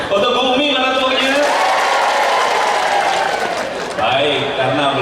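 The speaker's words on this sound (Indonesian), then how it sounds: "Untuk Bu Umi mana tepuknya?" Audience clapping at an Indonesian national seminar and book launch held at a madrasah, sustained dense applause from a crowd filling the room, steady and loud throughout, with talk and music-like tones mixed underneath.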